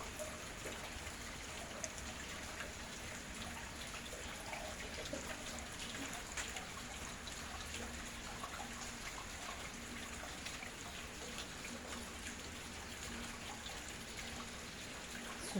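Rainwater pours into a large basin on a botanical farm during rain harvesting, producing a steady, dense splashing and trickling that continues without pause, with no talk over it.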